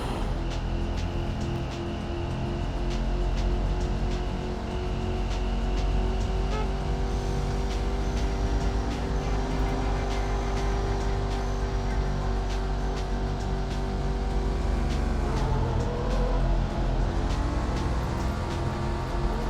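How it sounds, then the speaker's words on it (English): A car engine drones and revs continuously in the PlayStation version of Need for Speed: High Stakes, with gear shifts and rising and falling pitch over a racing session. "It does sound nicer than the PC version of this car."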